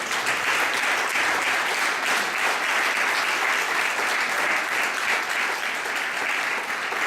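Steady, sustained applause from a church congregation honoring the Lord, a dense unbroken wash of clapping that holds at an even level for about seven seconds with no talk over it.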